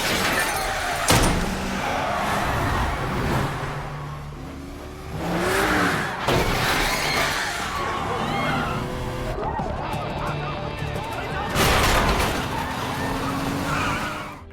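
Film sound effects of two speeding cars losing control and plunging onto subway tracks: revving engines and skids are broken by two sharp, loud crash bursts, with a voice speaking faintly in the background.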